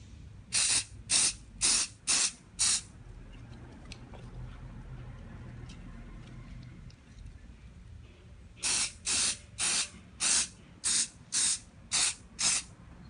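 Crep Protect spray hisses onto sneakers in two rapid series of short, evenly spaced bursts, five at first and about eight later, close and loud against a quiet room.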